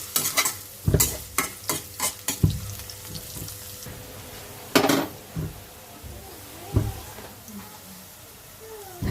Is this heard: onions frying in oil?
yes